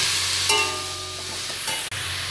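Vegetable stems with mustard paste, salt and turmeric stirred in a hot pan, a steady soft sizzle with a spatula scrape and a light clink, close and even, no talk.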